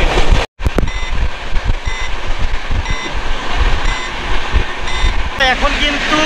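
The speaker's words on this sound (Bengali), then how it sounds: "128-130 কিলোমিটার বেগে কিন্তু ট্রেন ছুটছে আমাদের।" A Howrah to Puri superfast express train rushes along at about 128–130 km/h at night, a loud, continuous broadband rumble and rattle with faint recurring tonal beeps, briefly cut out near the start.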